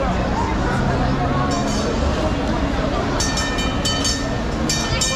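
Continuous rumble and rattle of a moving Istanbul subway train with metallic clinks, while people talk over the noise.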